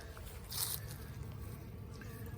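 Honey bees buzz around an opened beehive, a faint, steady droning hum close by with a brief louder swell, no talking.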